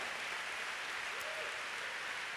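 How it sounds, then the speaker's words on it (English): Congregation applauding at a church service after a preacher's call to clap for the Lord, a steady diffuse wash of many hands, fairly faint and continuous throughout. "go ahead and give the Lord a big clap"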